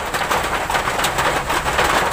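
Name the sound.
heavy rain and wind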